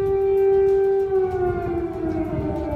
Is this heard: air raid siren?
yes